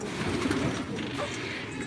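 Colored Elvan pigeons coo softly at close range in a short burst, with a low murmur of the flock behind.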